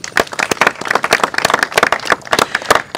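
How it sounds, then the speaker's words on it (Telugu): A room of people at a rice auction claps together in a round of applause, dense, loud and close, with quick uneven claps running steadily through. "ఒక్కసారి చప్పట్లు."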